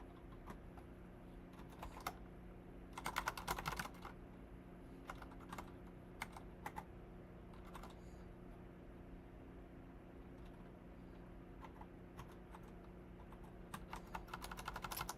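Typing on a computer keyboard during a coding session: irregular soft key clicks in scattered bursts over a steady low hum, faint and close, with no talking.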